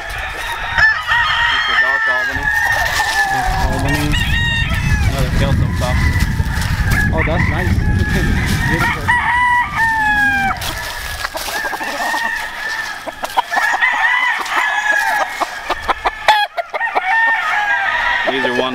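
Gamefowl roosters crow repeatedly on a Missouri game farm kept for breeding, several birds overlapping near and far, with clucking and honking in the mix and someone talking over much of it.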